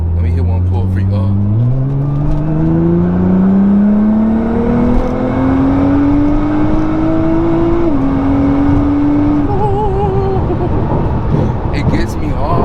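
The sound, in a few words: 2014 Nissan GTR engine accelerating hard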